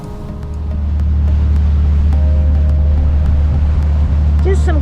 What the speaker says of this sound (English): Just some calm, rolling